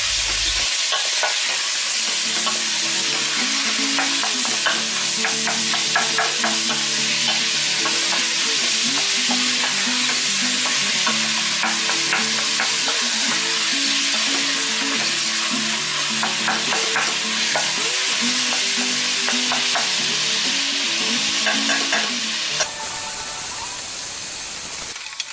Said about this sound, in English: Give the mince a good stir and let it cook until it starts to change colour.